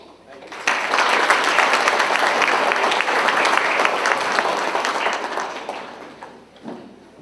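An audience at a high school breakfast awards event applauds steadily for about six seconds, a broad sustained wash of clapping that rises sharply, holds, and then tapers off.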